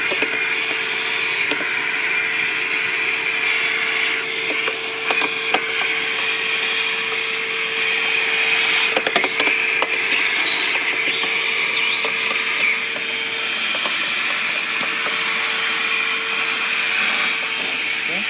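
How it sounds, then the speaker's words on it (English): A vacuum cleaner runs steadily while cleaning a 2014 Toyota Camry, its constant loud whine broken by repeated bumps and rattles as the nozzle knocks about. "we're gonna start vacuuming"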